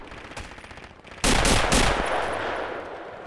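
Machine gun fire in the multiplayer war game Red Orchestra: a loud, sudden burst of rapid automatic shots after a quieter stretch of background noise, with a few sharp rounds standing out before the sound tails off.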